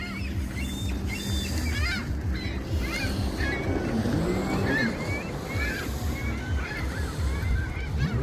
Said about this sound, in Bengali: এই পাতি হাঁসগুলো এদেশেই দেখা যাচ্ছে।